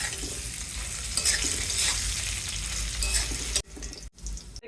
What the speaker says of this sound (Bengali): আলুগুলি লাল করে ভেজে নিলাম নামিয়ে ফেলবো এখন